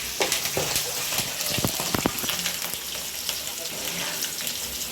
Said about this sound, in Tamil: பூண்டு போட்டதுக்கப்புறம் 2 கிண்டு கிண்டணும்